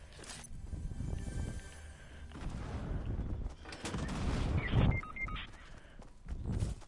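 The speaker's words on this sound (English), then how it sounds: "Triple hand cannon." Rapid bursts of heavy hand cannon gunfire in a video game, loud shots firing in quick clusters across the clip with busy game effects between them.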